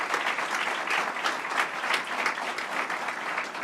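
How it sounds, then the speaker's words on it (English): Audience at a government event in Buffalo giving a round of applause, a dense, steady burst of clapping with slight swells that stays strong throughout, and no talking over it. "Let's give him another round of applause."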